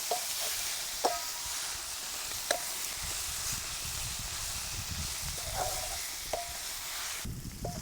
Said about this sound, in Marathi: आता हे शिजून घेतलेली उमरं टाकून घेऊ छान अशी परतून घ्यायची